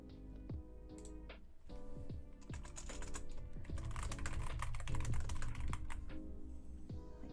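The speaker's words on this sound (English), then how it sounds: "Loud keyboard." Close, loud clatter of a computer keyboard being typed on quickly, irregular keystrokes and clicks building to a dense burst of rapid typing, with no talking.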